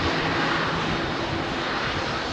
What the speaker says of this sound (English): Dreamliner going first